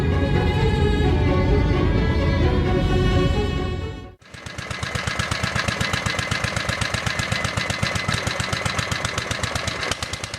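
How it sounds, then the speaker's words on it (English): A four-stroke engine runs fast and steady, its rapid even firing pulses continuing loudly after a brief dip partway through, with no voices over it. "Check out the inner workings of this 4-stroke engine. It's amazing how fast it runs."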